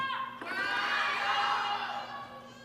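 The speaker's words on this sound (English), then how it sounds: "Here now the crowd starting to cheer for Sun Yingsha." Spectators at the US Smash 2025 women's singles table tennis match between Sun Yingsha and Yangzi Liu cheer loudly and steadily, a broad swelling roar of many voices that fades slightly toward the end.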